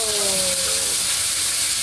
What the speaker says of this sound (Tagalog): Gisa na po ng kamatis.